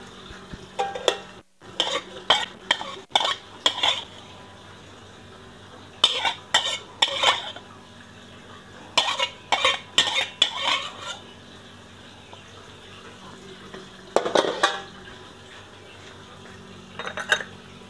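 Shiitake mushrooms going into a pot of tender-cooked beans for Teochew-style pickled mustard greens, with repeated sharp clinks of a utensil against the pot in short bursts over a faint background hum, no talking.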